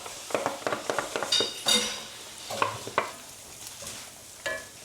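Mushrooms and onions sautéing in a pan while being stirred for a shrimp Alfredo sauce, with soft sizzling under repeated clinks and scrapes of a utensil against the pan, close and moderately loud, no talking.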